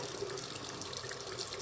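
Tap water runs steadily into a sink while makeup brushes are being cleaned, a continuous close hiss with no talking.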